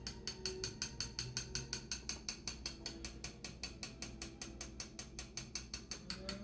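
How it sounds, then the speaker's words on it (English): A hand-cranked sifter clicks in a fast, steady ratcheting rhythm, about four clicks per second, as dry chocolate powder is sifted for crepes, close up and alone. "So I'm sifting it right now. Gotta get the chunks out of here."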